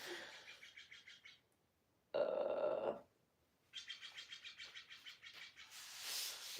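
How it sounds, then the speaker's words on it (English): Birds chirp outdoors in repeated quick tweeting phrases, fading briefly before a burst of calls and then resuming in a steady rhythm of chirps at moderate distance. "birds are outside"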